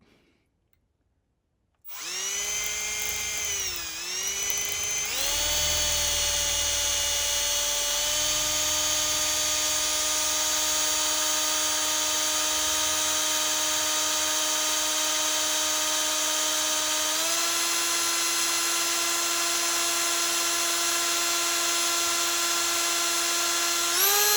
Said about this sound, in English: It is a 1/16 of an inch drill